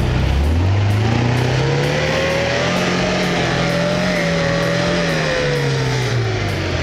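A 4x4 off-roader in low gear on sand, its engine revving hard and steady with pitch rising and falling as it strains forward, loud and close throughout.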